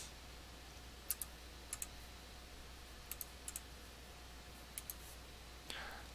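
Computer mouse clicks while drafting in CAD software, sharp isolated clicks, mostly in quick pairs, scattered over a quiet background with long pauses between them.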